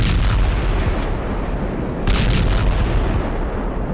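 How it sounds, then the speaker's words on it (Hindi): An anti-ship cruise missile strike on a Greek ship at sea produces a loud, continuous roaring rumble, with a sharper burst of blast noise partway through. "ग्रीस के जहाज पर हूथी ने जबरदस्त एंटी शिप क्रूज मिसाइल से हमले किए"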